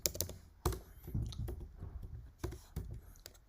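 Computer keyboard typing patters in close, uneven bursts of clicks with a few sharper keystrokes, continuing steadily over several seconds.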